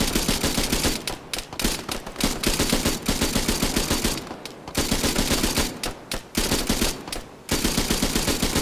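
Sustained automatic gunfire rattles through a firefight in a Vietnam-era mil-sim video game, long bursts of rapid shots broken by brief pauses, loud and dense with overlapping weapons.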